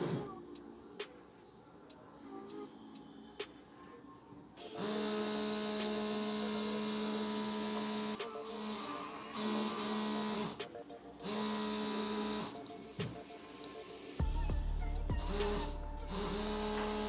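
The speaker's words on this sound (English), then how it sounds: "We will connect this motor to the battery and we'll see how this works." A small air pump motor pulled from a blood pressure monitor, wired to a 6-volt battery, starts after a few seconds of quiet clicks and runs with a loud, steady electric whine and hum, changing pitch near the end.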